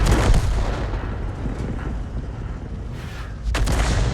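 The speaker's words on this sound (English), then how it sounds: "He got 1 tank shell came in, or 1 Arty shell came in" Artillery shell impacts in a tank battle video game land as heavy booms, a sharp blast at the start and another near the end over a rumbling low-end background.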